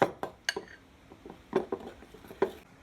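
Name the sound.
whisking pancake batter in a bowl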